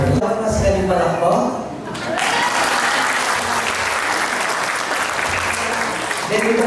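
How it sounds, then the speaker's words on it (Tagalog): Loud, sustained audience applause fills a birthday celebration for a sixtieth birthday, with clapping running steadily for several seconds and a brief lull near the two-second mark before it swells again. "Palakpakan po natin, Sir Marvin."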